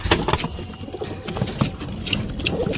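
Pigeons coo and call repeatedly around a nest with tiny squabs and a brooding mother, the soft throaty calls close and overlapping with light rustling.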